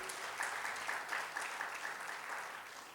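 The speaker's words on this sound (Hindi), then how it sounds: "अच्छे से ताली बजाइए" A live audience claps steadily at a Hindi talk, giving a dense, continuous applause for party workers that holds at an even level for the whole stretch, with no voices over it.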